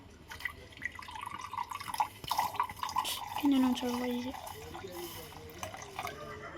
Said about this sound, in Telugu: ఇప్పుడైతే గ్లాస్ వాటర్ పోస్తున్నాం